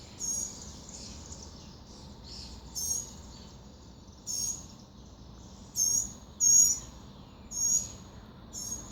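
Young birds beg while a parent bird brings them insects, shrill high chirping bursts repeated every second or so against a quiet outdoor background, growing louder and more rapid toward the end.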